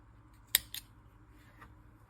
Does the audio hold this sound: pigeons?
no